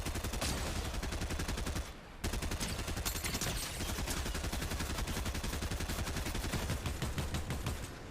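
Rapid automatic gunfire from a gun in the Fortnite video game, loud dense bursts of shots running almost continuously with one brief pause, no voices over it.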